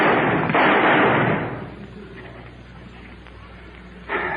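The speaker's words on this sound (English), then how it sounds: "If those shots were heard, we're going to be in trouble." Gunshots in a 1950s radio drama: a loud burst of blasts at the start, ringing and decaying over a couple of seconds into quieter room noise, then another sharp hit near the end.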